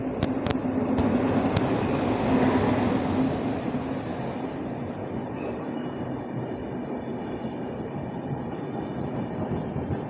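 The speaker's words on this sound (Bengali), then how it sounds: "এই যে আসছে আমাদের অপেক্ষারত ট্রেন" Train 05932 from Dibrugarh to Kolkata pulls in at a station platform, its loud rolling rumble and clanking easing off as it slows, with no talk over it.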